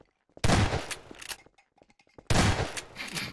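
Gunfire in a Garry's Mod Prop Hunt match comes as two loud, close bursts separated by a short quiet gap, with faint scattered clicks between them.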